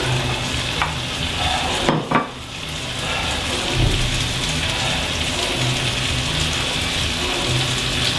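Lamb pieces and their juices go back into a curry pan and are stirred, giving a steady close sizzle with scraping spoon strokes and a brief clatter around the two-second mark, no voices.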